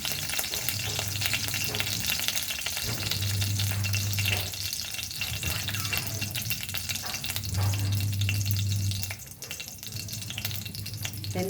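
Curry leaves sizzle and crackle steadily in hot coconut oil while cooking a Goan vegetable stew, with a continuous close frying hiss that eases slightly near the end.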